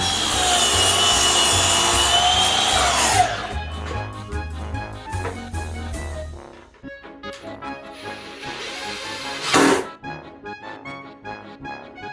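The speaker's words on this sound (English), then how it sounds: "he knew that today would be a day of sanding and sanding and sanding" Wood being sanded by hand on a cabinet pedestal, giving long rasping strokes that are loud at first, then shorter scrubbing passes with pauses, up close with no talking.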